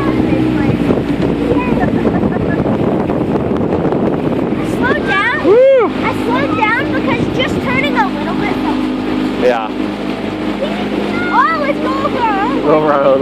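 Outboard motor on a small dinghy running at full throttle, a loud steady drone with strong wind buffeting on the microphone, while people talk and whoop over it.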